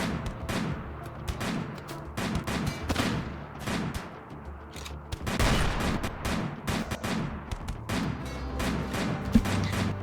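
Video game gunfire crackles in dense, rapid bursts of shots and impacts, loud and continuous throughout with a few brief lulls.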